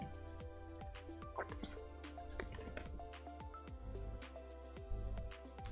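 Someone taking sips of water during a live game stream, with small wet gulps and swallowing sounds up close over quiet background game music.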